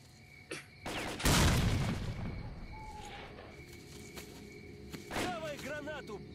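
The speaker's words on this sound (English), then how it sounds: "That's a grenade!" In the video game S.T.A.L.K.E.R. Call of Pripyat, a loud grenade blast bursts out after a sharp crack of gunfire, followed by quieter scattered shots and bird calls, with a voice briefly heard.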